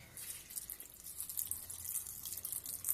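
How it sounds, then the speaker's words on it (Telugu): Water trickles and splashes steadily into a bowl of flattened rice, a light continuous pouring sound without any voices. "బౌల్లో 1 కప్పు అటుకులు వేసుకొని దాంట్లో 1 కప్పు నీళ్లు పోసుకోవాలి"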